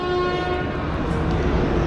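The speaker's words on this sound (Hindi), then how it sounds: "ट्रेन जो है वो पूरे 2:20 पर पहुंच चुकी है रावलपिंडी रेलवे स्टेशन पर" A train stands at Rawalpindi railway station, giving a loud, steady horn-like drone with strong sustained tones over rumbling machinery throughout.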